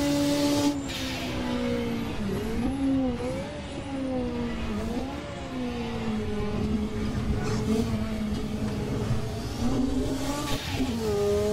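A Ford race car roars steadily through a race against Porsches, the engine note rising and falling with gear changes and revving, loud and continuous with no talk.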